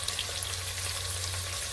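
Onions frying in oil in a pan over a medium flame, a steady close sizzle with faint crackles throughout and no talk.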